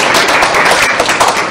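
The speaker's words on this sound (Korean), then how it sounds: "수고해주신 세 분의 발표자께 큰 박수 한번" Audience at an academic development-cooperation conference panel applauds the three presenters, a loud, steady wash of close clapping with no voices.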